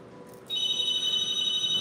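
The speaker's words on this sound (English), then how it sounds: "Oh, here goes the phone." A telephone starts ringing about half a second in, a steady, bright electronic ring that holds to the end over a quiet room background.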